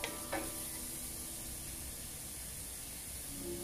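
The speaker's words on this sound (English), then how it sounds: "I just wanted to saute my spinach" Spinach sautés in a pan for a bacon and spinach Alfredo, with a quiet, steady sizzle after a couple of soft clatters at the start.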